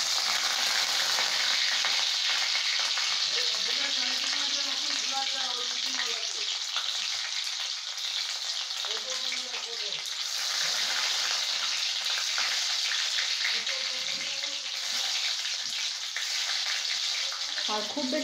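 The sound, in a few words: chopped garlic frying in oil for chili chicken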